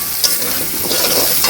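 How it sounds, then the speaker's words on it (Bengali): A spice paste with garlic is stir-fried in a pan for a Bengali home-cooked dish, giving a steady close sizzle broken by a few brief scraping stirs, with no talking. "দেখেন মশলাটা কত সুন্দর কষানো হয়ে গেছে না"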